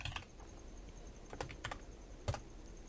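Quiet clicking of a computer keyboard, a few scattered bursts of keystrokes typed close to the microphone, faint and alone with no talking.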